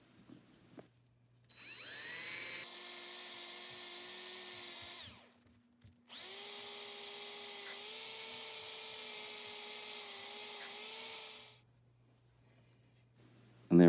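An electric drill spins a copper coin ring on a split PVC bit for polishing, giving two steady whirring runs of several seconds each with a short silent gap between, close and even in pitch.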